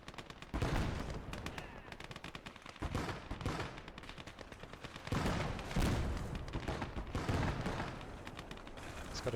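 Machine gun fire in the World War II game Gates of Hell comes in repeated rapid bursts at moderate distance, separated by brief pauses, with a faint voice in the background.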